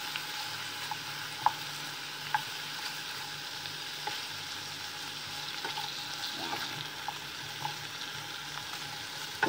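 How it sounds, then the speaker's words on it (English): Pork browning in a pan for caldereta, a continuous even sizzle and crackle with occasional small pops, no voices. "Add some pork. So we just let it brown."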